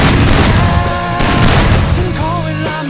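Gunfire in the video game Free Fire, heavy booming shots and bursts in a loud continuous barrage, followed by brief game sounds as the firing eases.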